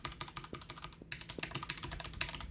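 Typing on a Logitech G915 TKL tenkeyless keyboard with brown switches: quick, uneven runs of soft clacking keystrokes, close and fairly quiet, with no talking.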